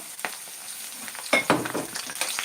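Bitter gourd slices fry in a pan with an oily sizzle, broken by a few stirring scrapes and light clinks, close up and fairly loud.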